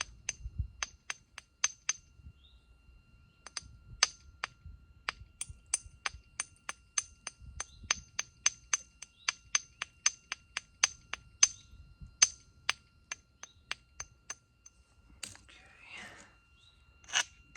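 Flint knapping an agatized coral spearpoint to take off a ridge: a long series of sharp, close clicking taps with short gaps, mostly single strikes in an uneven rhythm, and a brief scraping rub near the end.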